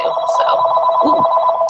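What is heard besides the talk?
office phone ringing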